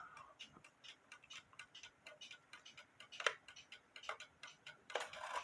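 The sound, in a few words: cuckoo clock with Regula 70-1 movement ticking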